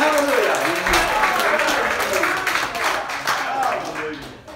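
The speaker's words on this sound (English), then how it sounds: "Clap your hands and shout hallelujah." A church congregation claps hands and shouts during a service, steady crowd clapping mixed with raised voices throughout.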